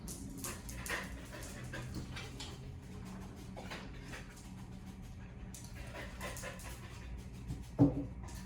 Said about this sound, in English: You can hear how hard she's sniffing.